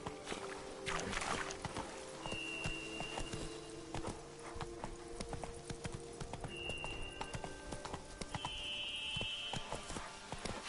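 Horse hooves clip-clop in a steady trotting rhythm as a rider urges the mount along in The Witcher 3, with brief tonal game effects and a faint whinny over a constant ambient bed.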